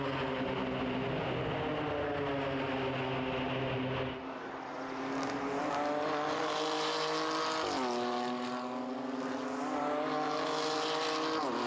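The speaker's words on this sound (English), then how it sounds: "the car number 15 of Job Rapange that she's fighting with" BMW M2 Cup race cars roar around the Red Bull Ring circuit, a loud sustained engine howl rising and falling through gear changes as cars pass close by, with no talk.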